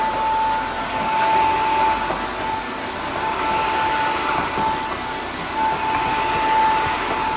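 A wet-floor vacuum cleaner runs in its boosted suction mode as a loud, continuous, close whine and rush, steady throughout with no talking.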